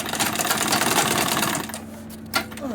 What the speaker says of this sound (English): So I'm going to run this and top stitch the other side.